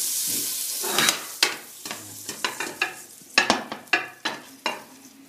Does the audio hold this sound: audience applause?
no